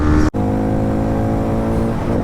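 A Yamaha R15M motorcycle launches in a drag race against a Harley-Davidson X440, its engine holding a loud, close, high revving drone after a brief cut, rising steadily in pitch.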